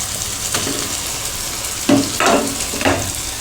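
Mashed potatoes stirred into softened tomatoes frying in a pan while pakoras are being made, a low sizzle with three or four scraping stirs toward the end.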